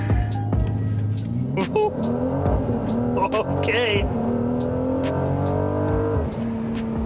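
A 2020 Mercedes-AMG GLC 43 4Matic engine revs up and pulls hard through rising gears in a brake-torque launch, loud and close from inside the car, with a brief word spoken over it.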